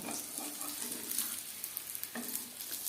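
Chicken rolls fry in a pan over a high-to-medium flame, giving a steady, close sizzle with crackling pops throughout and no voices.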